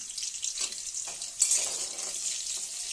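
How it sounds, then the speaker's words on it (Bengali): Potatoes frying in mustard oil hiss with a dense, continuous sizzle, close and even, with a brief sharper burst partway through as they are moved in the pan. "আগে আমি আলুগুলোকে ভেজে নিই"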